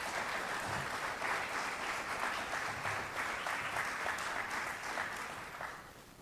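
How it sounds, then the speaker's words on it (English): Audience at a Pequannock Township school board of education meeting applauding steadily, a sustained wash of clapping from a modest crowd lasting several seconds before tapering off. "I think it's the first time anybody's ever clapped for me at one of these"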